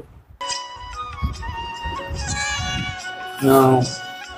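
A Persian cat at a cattery meows repeatedly in short, close, plaintive calls, with one louder, longer meow near the end, while people talk in the background.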